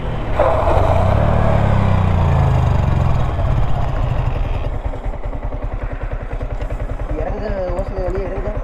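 A TVS Apache RTR motorcycle engine runs loud and close, first droning with a revving swell, then settling into a rapid, even throbbing idle. People talk over it.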